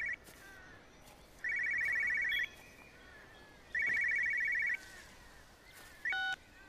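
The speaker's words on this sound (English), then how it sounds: "so a phone is ringing." A telephone rings in the video game Everybody's Gone To The Rapture in three evenly spaced electronic trilling bursts against a quiet ambient background. The last burst cuts off short, followed by a brief rising beep.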